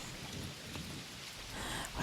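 Steady rain pattering down with a low rumble of thunder building near the end, a dense hiss filling the short stretch without voices.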